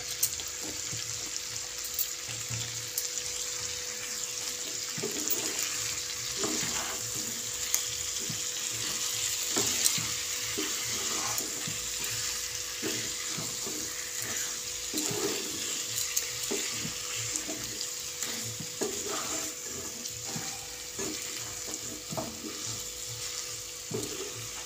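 Chicken being stir-fried in a pan for begmoti chicken, with a steady close sizzle and frying hiss plus irregular scraping and stirring knocks throughout, and no talk.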